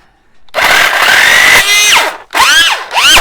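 An electric hedge trimmer motor runs loud and close after a short quiet start, its pitch wavering and sweeping as it cuts out briefly, then revs back up in surging bursts, consistent with a faulty, shifting trimmer.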